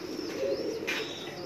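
Pigeons cooing at a loft among many birds, a soft, steady, close murmur of coos lasting throughout.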